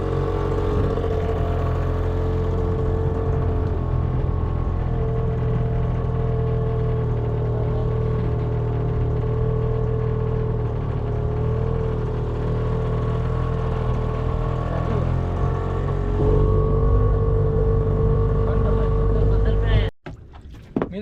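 A fishing boat's engine runs at sea off Mumbai on an oyster-gathering trip, a loud steady drone that holds for about twenty seconds and then cuts off abruptly, with voices talking faintly over it.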